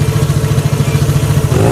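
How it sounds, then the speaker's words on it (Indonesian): A large-displacement motorcycle pulls in and parks, its engine a steady low rumble that stays close and loud throughout with no voices over it. "terdengar suara motor ber-cc besar parkir"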